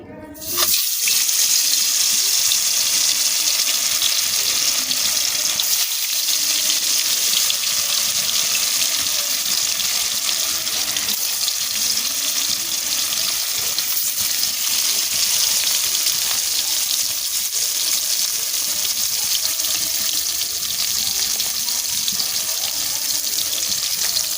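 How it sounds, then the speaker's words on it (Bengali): Fish hits hot oil on a wood-fired stove and sets off a loud, sudden, continuous sizzling roar that holds steady and close throughout, with no talk. "এবার তেলটা গরম হচ্ছে হয়তো, বুঝতে পারছি না আমি। মাছটা আমি দিচ্ছি।"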